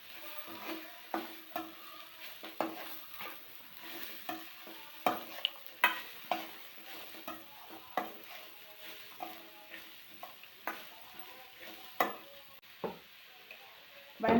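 Spatula stirring a banana flower stir-fry with salt in a pan, steady scraping strokes with light sizzling, close and moderately quiet, no talk.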